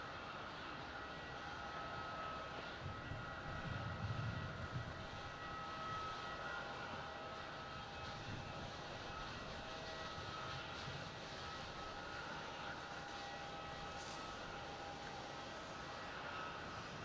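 A fixed-wing aircraft approaching to land on runway 16 at Melbourne Airport, heard as a distant, steady engine rumble and roar that holds throughout.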